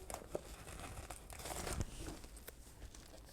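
A sheet of sushi stickers is handled during planner decorating, giving soft crinkling and crumpling paper or plastic noises with a brief tearing peel, close and fairly quiet, with no one talking.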